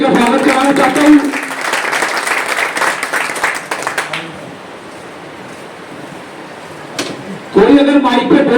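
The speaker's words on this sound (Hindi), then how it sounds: "मैं जोरदार तालियों से इसका स्वागत कराना चाहता हूं।" Loud crowd applause welcoming a vice chairman at a Waqf amendment bill awareness meeting, a dense clapping burst for about four seconds that fades out, followed by someone speaking.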